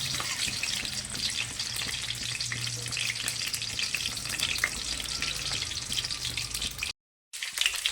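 Onions frying golden in oil for egg biryani, a dense, loud, continuous sizzle with faint stirring scrapes throughout, cut off by a brief silent gap near the end before sizzling resumes.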